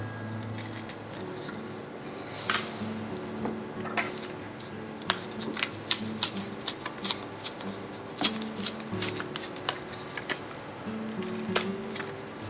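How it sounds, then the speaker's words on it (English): Scissors cut through several folded book pages held together, making a series of soft, crisp snips and paper rustles that grow more frequent, close and fairly quiet. "I'm going to keep the 3 pages flipped together and cut towards the center."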